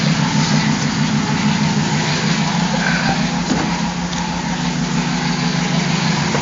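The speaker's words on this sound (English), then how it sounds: "That noise kind of quieted down. That was from the power steering pump" A Hemi car engine idles steadily with a low, even rumble and a faint whine from the power steering pump, constant and fairly loud throughout with no talking.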